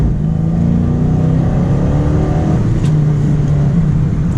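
A 2013 Dodge Challenger 5.7 accelerating hard in cold weather, its engine note climbing steadily in pitch through a sustained, loud pull, heard close from inside with no talking.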